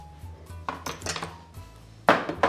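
A spoon scraping and clinking against a pot while giant beans and pancetta are stirred, a few close clatters and scrapes, with a louder knock near the end.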